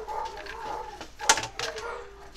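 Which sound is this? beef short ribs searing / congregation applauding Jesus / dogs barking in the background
dogs barking in the background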